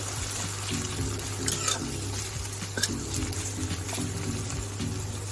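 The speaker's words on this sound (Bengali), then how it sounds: "বেরেস্তাটা খুব আস্তে আস্তে করতে হবে একদম লো করে দিয়ে তারপরে আস্তে আস্তে ভেজে নিচ্ছি" Onions for biryani birista fry slowly over low heat in a pan, giving a steady, soft sizzle with faint stirring clinks and scrapes throughout.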